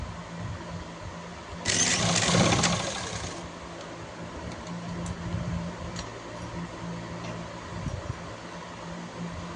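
Sewing machine stitching a salwar, a loud broadband run of about two seconds near the start, then quieter background hum with faint clicks.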